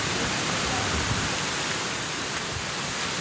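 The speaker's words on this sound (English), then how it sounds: "Waterfalls all over!" A hidden waterfall near Durban, South Africa, gives a loud, constant broadband rush of falling water, close and unbroken throughout.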